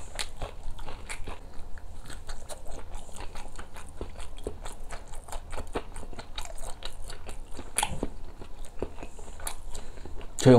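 Corn cheese eaten with a spoon straight from a frying pan: close, steady crunching and chewing with soft scrapes and clicks against the pan, continuing without talk.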